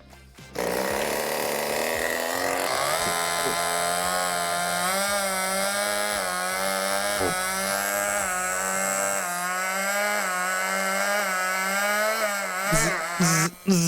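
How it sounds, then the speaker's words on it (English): Gas engine driving a Tesla coil, running with a loud steady drone whose pitch sags each time the coil sparks and the capacitors recharge. Sharp crackling bursts of sparking come near the end. "every time it sparks, the motor loads down until it recharges the capacitors again"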